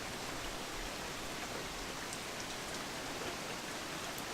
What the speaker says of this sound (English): We're going to wait for the rain to stop.